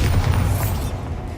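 A Bombarda spell blast from the video game Hogwarts Legacy, a loud low boom rumbling continuously through the short moment before easing off.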